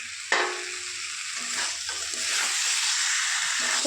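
Spice masala for a rohu fish curry sautés in hot oil in a pan, making a loud, continuous hissing sizzle with a sharp scrape at the start and soft stirring noises throughout.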